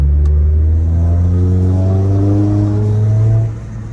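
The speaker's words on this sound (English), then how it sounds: "So this is what basically is gonna sound like after you do get the exhaust." A 8th-generation Toyota Camry with a Borla cat-back exhaust revs up with a loud, deep, rising drone, holding steady for about three and a half seconds before dropping off.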